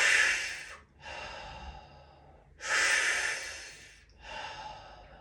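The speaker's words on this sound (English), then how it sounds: "So now we're gonna do 3 mouth breaths." Quick, forceful breaths through the mouth, close and loud, come as breathy bursts of air with short gaps between them during a breathing exercise for opening the rib cage.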